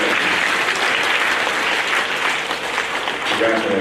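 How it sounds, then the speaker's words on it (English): An audience at a school sixth-grade awards program claps steadily, a dense wash of applause from many hands that stays loud and even throughout with no voices rising above it. "How about a round of applause for all the great."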